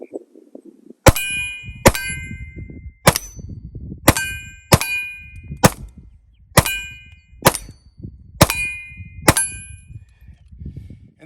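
Ten sharp gunshots from a new SCCY CPX-3 pistol in .380 ACP, emptying the last magazine, fired at an irregular pace of roughly one per second, each loud crack ringing metallically with no talking.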